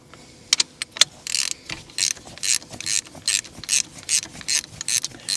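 Ratchet wrench loosening a spark plug on a John Deere Gator, a run of quick rhythmic ratcheting clicks in bursts with a few sharp metallic taps at the start, close and clear.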